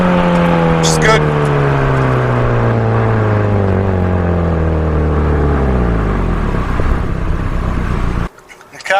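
A car on a test drive drones loudly from inside the cabin, its engine note sliding steadily lower as it slows back to normal driving, before the sound drops away near the end.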